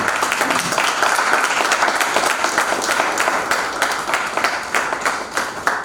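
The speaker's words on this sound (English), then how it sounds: "Give them a big clap for all of them" A seated audience at a technology and society conference claps together, a continuous, fairly loud round of many hands with individual claps standing out, steady throughout with no talking over it.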